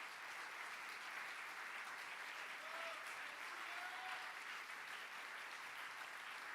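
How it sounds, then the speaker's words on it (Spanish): A church congregation applauds during a pastor's sermon, a distant, faint and steady wash of clapping that holds evenly throughout. "dale el aplauso, Señor"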